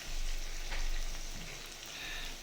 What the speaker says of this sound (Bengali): চিকেন কাবাবগুলো ভেজে নিচ্ছি।